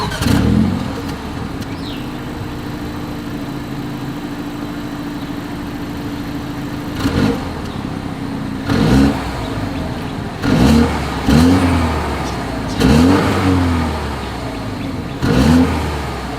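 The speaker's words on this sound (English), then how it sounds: "here is that exhaust clip" A BMW X1 SUV with dual exhaust idles with a steady low burble, then is revved in a series of sharp, loud bursts about every second or two, each rising and falling away. No one speaks.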